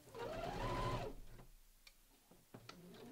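A sewing machine runs a long basting stitch joining a bomber jacket and its lining at the neckline, with a loud whirring burst for about a second followed by faint clicks and handling.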